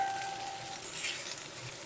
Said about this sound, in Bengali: পটলগুলোকে আমি লবণ কিংবা হলুদ গুঁড়ো দিয়ে ভাজবো না, এমনি ভেজে নেব, শুধু তেলের মধ্যেই ভেজে নেব।